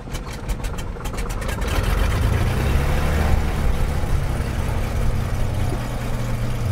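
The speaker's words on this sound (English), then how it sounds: "engaging the ignition switch to start the engine" Light aircraft piston engine cranking with rapid ticks, then catching and running at a steady low rumble that holds through the rest.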